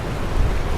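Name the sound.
ocean waves on the shore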